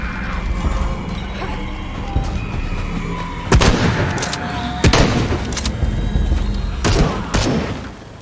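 Shotgun blasts in Shadow of the Tomb Raider boom out in several loud, spaced bursts over a rumbling combat soundscape, each shot heavy with a short ringing tail.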